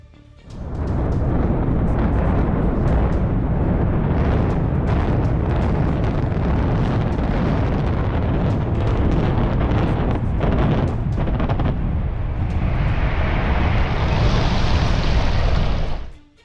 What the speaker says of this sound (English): in a 10-second controlled explosion